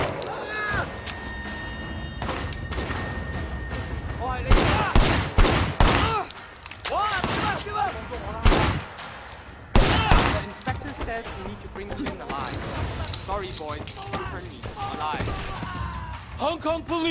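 Gunfire in the Sleeping Dogs: Definitive Edition video game, with loud bursts of shots scattered through a busy, dense mix and voices shouting and talking throughout.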